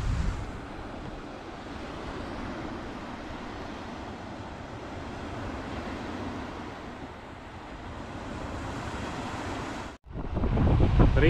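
Sea waves wash onto the Latvian coast near Liepāja under a steady, roaring wind that buffets the microphone, constant and loud throughout, with a brief dropout near the end.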